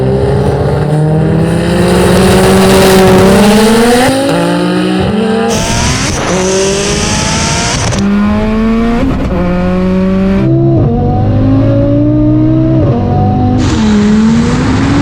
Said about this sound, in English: This is a roll race just for fun.